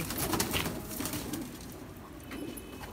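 A pigeon coos softly in low, rumbling bursts close by, with faint background noise around it.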